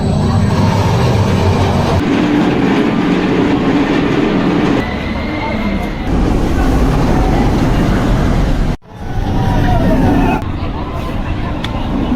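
A Monster roller coaster ride at Gröna Lund amusement park, ridden in the back row: a continuous loud rumble of wheels on track with rattling and wind noise, a brief dip near the end, then the roar resumes with faint crowd voices.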